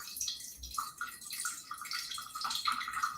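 Water running freely from a small unlocked water device, a faint, soft trickle with light dripping at close range, steady and quiet throughout.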